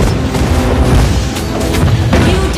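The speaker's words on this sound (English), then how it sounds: "You destroyed a turret" A turret crumbling in the Mobile Legends MOBA game: loud, dense booming crashes and rumbling impacts fill the whole moment, layered with game effects.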